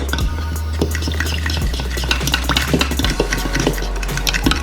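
Jamaican oxtail being stirred in a pot, a steady run of scraping and clinking spoon strokes against metal over a low cooking hum, close and fairly loud with no talking.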